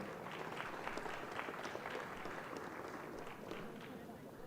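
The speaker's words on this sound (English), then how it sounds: "I think the Honorable Minister deserves a louder hand clap." Audience at an industrialisation forum clapping for a government minister, a dense, continuous patter of many hands, fairly close and sustained with little change in level, with voices faintly mixed in.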